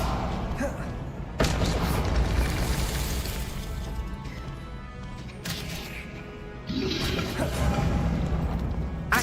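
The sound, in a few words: spell explosions in Hogwarts Legacy video game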